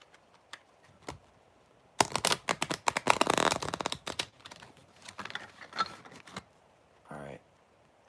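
Tarot cards are shuffled in quick bursts of dense riffling and flicking from about two to six seconds, with softer taps and handling around them and no talking.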